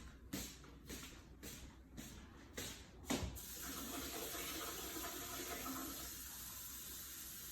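Water poured into a container for Chinese dumpling dough, a steady splashing pour after a few sharp knocks, close and fairly loud, with no talking.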